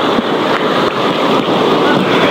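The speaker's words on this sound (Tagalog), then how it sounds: "malakas po talaga yung dagat dito" Loud, continuous roar of rough sea surf mixed with strong wind buffeting the microphone, with no pauses, during rain and flooding at Baseco Port Area.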